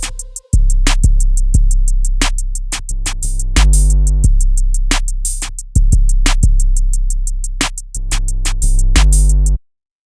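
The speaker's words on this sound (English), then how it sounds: "So all the drums put together sounds like this" A programmed drum beat built on a Yamaha S80 keyboard, with fast ticking hi-hats, sharp snare hits and two deep, booming 808 bass notes that shift pitch, loud and punchy before stopping abruptly.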